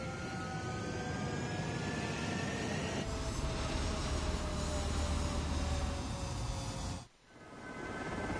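A fighter jet in the Ace Combat 7 video game roars steadily with a loud, sustained engine drone that builds slightly midway, then briefly cuts out near the end before resuming.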